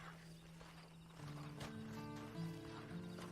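Horse in the Red Dead Redemption 2 video game, faint hoof clops and snorting moving with low hum and tonal game sounds, quiet throughout.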